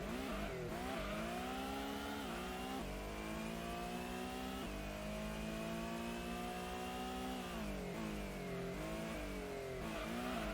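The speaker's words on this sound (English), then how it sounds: "Get by the Toyota and we're pulling away" Race car engines in Gran Turismo 1 on the Grand Valley circuit rev loudly, pitch climbing and falling through gear changes while overtaking a Toyota, with a brief tire squeal, a continuous close engine roar and no talking.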